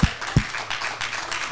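A church congregation gives a brief, scattered round of clapping. Two sharp, close claps open it, followed by a soft wash of distant hand claps that stays steady and faint, with no one talking.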